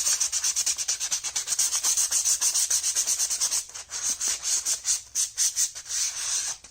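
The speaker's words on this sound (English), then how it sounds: "you're scuffing the actual plate. This gives it texture for you to actually have the paint stick to the plastic." Sandpaper scuffing a plastic armor plate to roughen it for paint, a close, loud series of rapid rhythmic rubbing strokes that slow into separate swipes toward the end.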